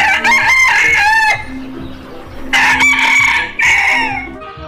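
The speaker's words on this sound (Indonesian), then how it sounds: "Wah, di sini ada ayam teman-teman." Chickens and a rooster in a rural yard; loud close crowing calls and clucking come in two bursts separated by a quieter pause with scattered background noise.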